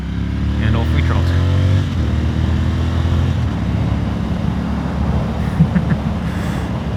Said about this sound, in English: Because this motorcycle is fucking loud